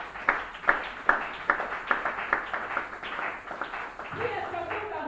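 A church congregation claps in a steady, loud rhythm of sharp hand claps, mixed with cheering voices and spoken words, easing toward the end.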